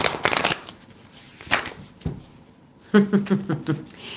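Playing cards being shuffled in several quick riffling bursts with pauses between, close by, followed by a faster run of flicking card sounds.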